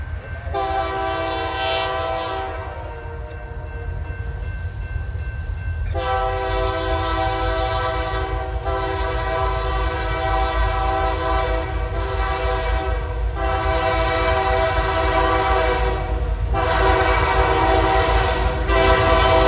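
BNSF freight train led by locomotive 3019 rolls through Carbon Hill, Alabama on the Birmingham Sub, its multi-tone horn sounding in long blasts and shorter breaks over a steady close rumble of passing cars.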